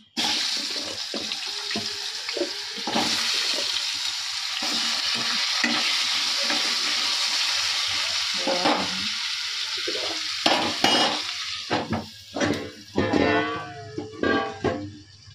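Spices sizzling and frying in a pan for a fish-head curry, with bhetki fish oil and potatoes, stirred steadily with a spatula; a continuous hiss of hot oil under repeated scraping, stirring strokes growing more distinct toward the end.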